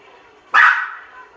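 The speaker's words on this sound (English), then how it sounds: "What are you barking at?" Single sharp dog bark in the video game Okami, one loud close yip that trails off quickly, standing alone without talk.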